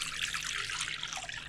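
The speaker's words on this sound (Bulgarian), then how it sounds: "В купа с топла вода." Warm water runs steadily into a bowl for bread dough, a continuous close splashing pour with no speech.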